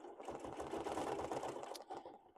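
A domestic sewing machine runs at a fast, steady stitching rhythm during free-motion quilting of a wholecloth quilt, close and clear, stopping briefly near the end.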